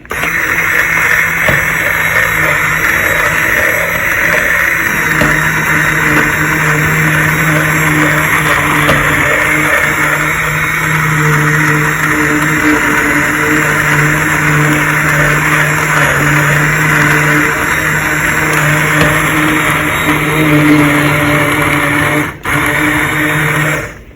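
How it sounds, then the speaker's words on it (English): An immersion blender whirs continuously at close range blending peach salsa, a loud steady motor whine with slight shifts in pitch as it churns through food, stopping briefly near the end. "we're going to go in with our immersion blender"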